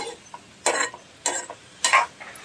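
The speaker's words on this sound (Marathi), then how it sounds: "छान अशी परतायची बघा आपली फ्लावरची भाजी तयार" Cauliflower curry with onion, green chili and turmeric is stirred in a pan: three distinct scraping stirs land at regular intervals over a soft background sizzle, fairly close and without talk.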